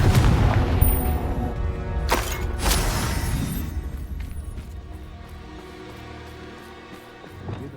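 Confringo blasting spells explode in the Hogwarts Legacy video game, with a loud booming blast up front, two sharp cracks near two and three seconds, then rumbling debris fading to a quieter tail and a final thump.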